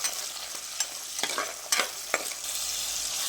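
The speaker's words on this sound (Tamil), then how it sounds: "வெங்காயம் நல்லா பொன்னிறமாக வதங்கட்டும்." Onion, green chili and curry leaves sautéing in oil for Tamil fish curry: a steady close sizzle with several sharp scraping stirs of a spoon against the pan, no talking.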